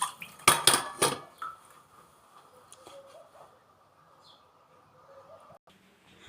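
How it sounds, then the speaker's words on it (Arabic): Dishes, pots and cutlery clatter in a home kitchen: a burst of loud clanks and clinks at first, then fainter, scattered taps and scrapes. "اغسل بس المواعين ديت تمام"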